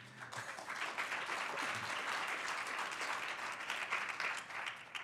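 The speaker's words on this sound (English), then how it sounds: "That clapping started with one of my fellow alumni." An audience at a New York City Council district address applauds, a steady wash of many hands clapping that holds at an even level throughout, with no voices over it.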